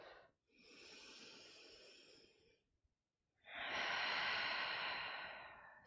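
Slow, deep breaths during a guided meditation: a long, close inhale, a pause, then a louder, fuller exhale, each breath soft and airy with no talking.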